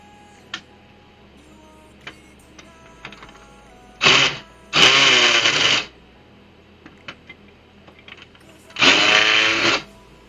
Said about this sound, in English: We have to unscrew these.